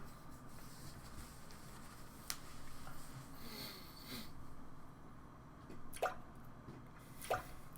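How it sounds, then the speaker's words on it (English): Falling water drops used as a storytime sound effect, a few sparse, sharp drips and plops spaced over quiet background, faint overall with a couple of distinct louder drops near the end. "The sound of falling drops."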